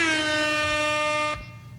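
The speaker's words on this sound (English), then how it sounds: "That was the Big Bang? Just that DJ horn?" A DJ air horn lets out one loud, sustained, brassy blast that holds steady for over a second before cutting off abruptly, leaving quiet room noise.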